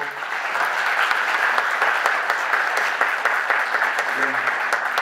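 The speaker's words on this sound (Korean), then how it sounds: "그럼 모두 박수로." Party members at a founding convention clap together to approve a motion unanimously, a dense sustained round of applause filling the room at steady loudness, with a faint murmur near the end.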